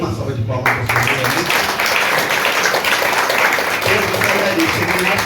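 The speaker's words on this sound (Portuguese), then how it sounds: "Dê uma salva de palmas para o Senhor." Worshippers at a family church service give a round of applause, dense clapping sustained throughout after a brief quieter opening with a voice.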